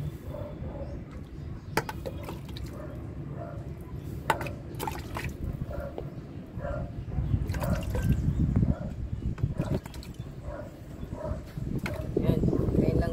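Water mixed with fertilizer is poured onto a freshly repotted Vietnam rose, trickling and dripping steadily into the soil while someone talks.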